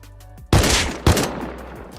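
Two sharp bursts of automatic gunfire from auto turrets in the survival game Rust, each starting with a hard crack and trailing into rattling echo about half a second apart, loud and close.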